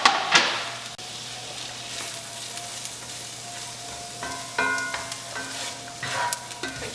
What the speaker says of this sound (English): got one medium yellow onion that I've chopped up pretty finely. I'm gonna let these cook for a few minutes